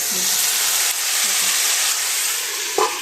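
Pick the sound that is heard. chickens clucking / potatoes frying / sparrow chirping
potatoes frying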